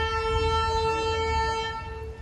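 The horn of a Darjeeling Himalayan Railway toy train at Darjeeling station, one long sustained tonal blast held steady and loud over low rumble, fading slightly at the end.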